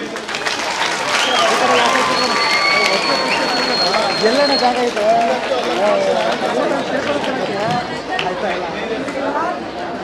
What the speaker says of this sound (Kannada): ಎಲ್ಲ ಪ್ರತಿಭಾವಂತ ವಿದ್ಯಾರ್ಥಿ ವಿದ್ಯಾರ್ಥಿನಿಯರಿಗೆ ಜೋರು ಚಪ್ಪಾಳೆ ಕೊಡಿ